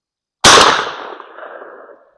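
A single 12 gauge 00 buck 1 3/4-inch mini shell fired from a Panzer shotgun with a full choke at an outdoor range: one sharp, loud blast followed by a fading echo tail of under two seconds.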